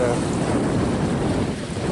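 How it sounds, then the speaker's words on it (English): Water gushing out from below the arch of the Jacin irrigation channel (Acequia Jacin), a dense, steady rushing roar close by, loud and unbroken, with possible wind buffeting on the microphone. "the water gushing out from below it"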